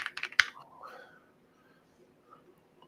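Several quick keystrokes tap on a computer keyboard at close range, with a sharper final clack, and then the sound trails off into near silence.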